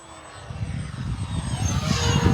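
An FMS P-51D V2 800mm radio-controlled model warbird flies past with a loud, rising electric propeller whine that swells as it nears, with no voices.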